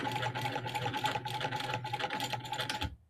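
A sewing machine stitches the side seam of a bag lining in a fast, steady, close rattle of needle strokes that runs for about three seconds and then stops abruptly, with no talk.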